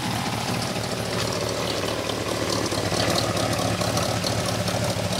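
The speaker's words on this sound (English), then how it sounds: "You'll hear the exhaust in the background." A 1963 Studebaker Hawk idles steadily, its exhaust giving a continuous low rumble in the background, even and unbroken throughout with no voices.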